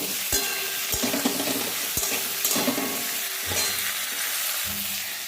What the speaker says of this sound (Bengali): দেখো তরকারিগুলো ভাজা করছি